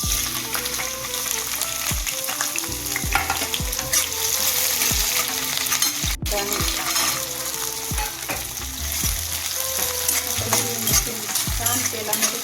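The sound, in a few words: green chilies and peanuts frying in oil for sabudana khichdi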